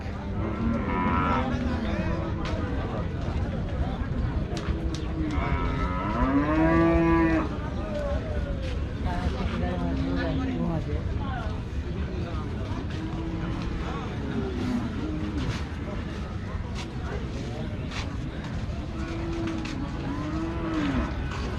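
Cattle, bullocks and calves, moo repeatedly at a Rajshahi livestock market, several drawn-out lows spread through the clip against constant crowd chatter and engine noise, with people talking throughout.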